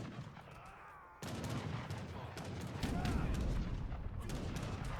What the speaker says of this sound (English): Here come the cannon.